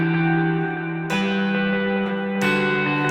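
Electric guitar played through a Helix Stadium patch with a Timmy drive, amp and wet effects, ringing sustained chords that change twice, full and close with a reverberant, lightly driven tone and no talking.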